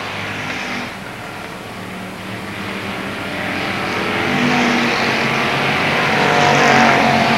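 Race cars circle the oval at Avilla Motor Speedway during a 1995 season-opening event, a continuous loud engine roar that swells as the pack draws nearer, with no talking heard.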